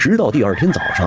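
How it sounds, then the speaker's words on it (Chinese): A village rooster crows at daybreak, its loud, wavering calls mixed with a narrator's voice speaking over them. "村里的公鸡开始喔喔打鸣"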